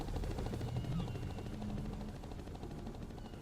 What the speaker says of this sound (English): Now, is this a vehicle? Like a helicopter?